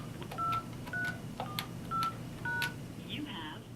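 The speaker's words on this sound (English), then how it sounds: "press the voicemail button, then press the soft key labeled Call VM" Telephone keypad tones as voicemail buttons are pressed, five evenly spaced beeps each with a faint click, followed by a brief electronic chirp, clear and close.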